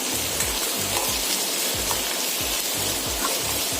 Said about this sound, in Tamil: இந்த எண்ணெயிலே கொஞ்சம் நல்லா ஒரு கோல்டன் ப்ரௌன் வர வரைக்கும் ஃப்ரை பண்ணிக்கோங்க